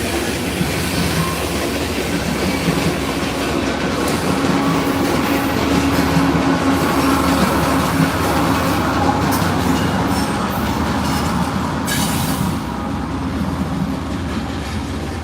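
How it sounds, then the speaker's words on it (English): An empty Norfolk Southern or CSX coal train rolls past at Dalton, Georgia, its steady rumble and clattering wheels filling the whole stretch with continuous, fairly loud rail noise. "So that's the end of the train there, an empty coal train."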